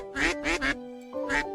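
Ducks quacking in a game scene, a run of three loud nasal quacks in quick succession, a short pause, then two more, close and clear with no talk over them.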